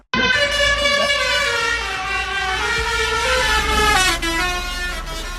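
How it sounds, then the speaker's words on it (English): A loud truck horn blares a movie theme, its brassy tones shifting pitch through the melody, close and continuous over a low engine rumble. "he customized his truck horn to blast the iconic theme song"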